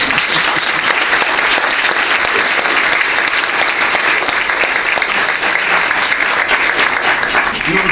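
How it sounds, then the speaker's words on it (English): Warm, sustained clapping from an audience honouring programme graduates at a ministerial ceremony, dense and even throughout. "Give yourselves a clap."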